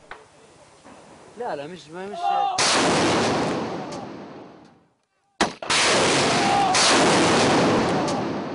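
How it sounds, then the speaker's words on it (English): Artillery fire pounding a house during combat in Libya, heavy roaring blasts sustained and loud, a brief silence then another long thunderous barrage, with someone speaking briefly before the first burst. "While the artillery pounds the house from the road, Sam hits his targets one by one."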